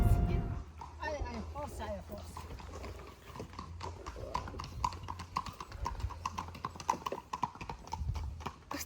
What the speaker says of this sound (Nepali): कस्तो गर्छ घोडाले